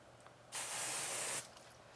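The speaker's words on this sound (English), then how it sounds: "spray it with hairspray" A single burst of hairspray hisses for about a second from an aerosol can, sharp and close, surrounded by quiet.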